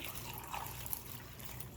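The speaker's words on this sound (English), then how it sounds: "I'm gonna fill this cup and I'm gonna pour it" Liquid poured from a cup into a plastic bag while making homemade bag juice, a soft, faint trickling stream lasting a couple of seconds with no voices.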